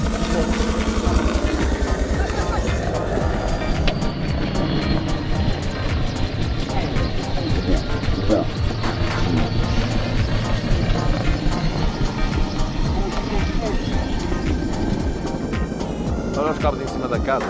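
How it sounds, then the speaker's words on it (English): A helicopter collecting water from a river near power lines beside a home gives a steady, loud thrumming engine and rotor drone that runs throughout. "A helicopter collecting water from the river accidentally hit the power line supplying to somebody's home."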